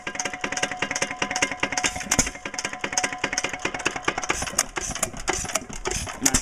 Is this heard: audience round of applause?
no